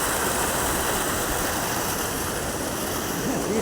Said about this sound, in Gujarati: તળાવ થઈ ગયું ઓવરફ્લો. જોઈ લો, જોરદાર જાય છે.